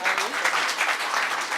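Brief applause rises from the guests at a Nepali Christian wedding, a quick patter of clapping with a voice heard alongside it.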